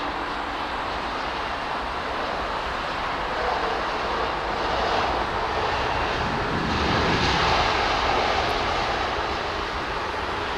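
An airliner jet arriving at an airport runway gives a steady, loud broadband roar that holds for the whole stretch and swells slightly midway, with no voices.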